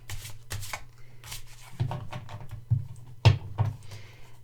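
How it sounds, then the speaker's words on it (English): Tarot cards riffled and slid in a shuffle, giving soft papery swishes and several sharper flutters and taps, close and moderately loud with no talking. "other people shuffle in this way, and they slide beautifully to do that"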